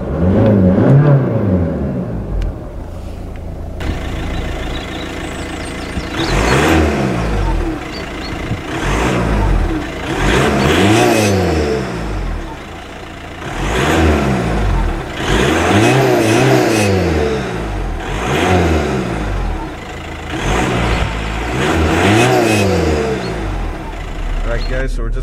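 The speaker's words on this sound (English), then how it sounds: "This car does have an aftermarket blow-off valve fitted." A diesel engine in a modified 2006 Seat Leon, fitted with an aftermarket blow-off valve, revs up and falls back again and again in rising and falling sweeps, close and loud, with a brief whoosh around 3,500 RPM as the revs drop.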